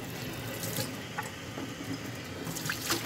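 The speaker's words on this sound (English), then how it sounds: "Getting a drink of water." A water tap runs into a sink in a hospital as someone fills a drink, a faint, steady splashing flow with a few small clinks and no talking.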